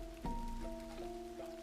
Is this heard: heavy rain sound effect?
yes